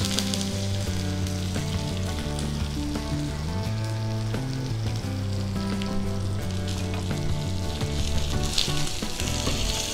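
Curry leaves crackle in hot oil with a steady, loud, continuous sizzle, while background music plays underneath.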